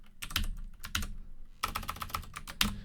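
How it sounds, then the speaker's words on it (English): Fingers tap quickly on a Debian laptop's keyboard, two short bursts of crisp, close keystrokes separated by a brief pause, with no one talking. "I can type it just as fast"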